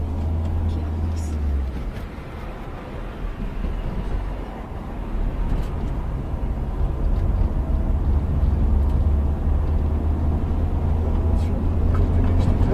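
Car engine rising in steady drone as the vehicle accelerates and shifts into second gear during a driving lesson, a continuous low rumble with road noise under a voice.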